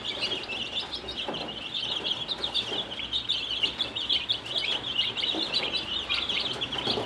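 Dense, continuous high-pitched peeping from many young birds at close range, steady throughout with no speech.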